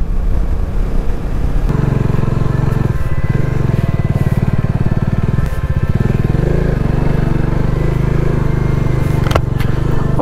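A motorcycle climbs a rough hill road toward a hilltop temple, its engine droning steadily and close throughout with no talk.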